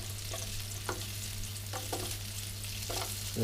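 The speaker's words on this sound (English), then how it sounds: "ये स्लाइसेस काट के इसी ऑयल में थोड़ा सा हल्का इनको ना ब्राउन करना है." Sliced onions fry in oil over full heat, giving a steady close sizzle broken by a few soft stirring scrapes.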